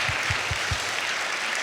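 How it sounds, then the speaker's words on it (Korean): Broad, steady applause from a church youth gathering fills the space evenly, with a few soft low thumps near the start, all at a moderate, somewhat distant level. "우리 섬겨주신 우리 정명현 형제 이 팀들에게도 박수 한번 합시다"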